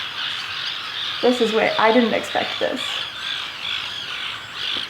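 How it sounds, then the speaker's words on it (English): Birds squawk and call at sunset beside water, a few harsh, loud calls bunched in the middle over a constant outdoor hiss, while a person talks briefly. "The sun setting and the bird song and the water right here."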